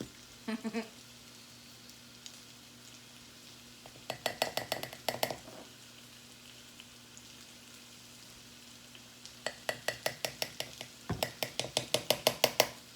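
A spoon clinks rapidly against a bowl while sauce ingredients and ketchup are mixed, coming in bursts of quick, bright taps separated by quiet pauses over a low steady hum.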